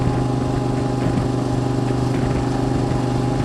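A QJ SVT 650X motorcycle with a flashed ECU runs at a steady, close-up idle, its engine holding an even, buzzing tone throughout.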